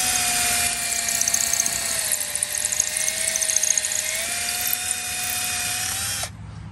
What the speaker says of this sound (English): Just drilling a hole in the engine.